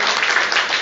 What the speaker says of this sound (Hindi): मुझे लग रहा है कि भारतवाज जी के लिए तालियां कम है